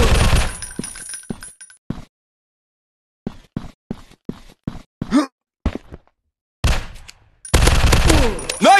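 Rapid gunfire from the zombie shooter game Zombies Fire Strike in an industrial war setting: bursts of shots with clinking, breaking impacts, pauses of silence between volleys, and a loud sustained stretch of automatic fire near the end.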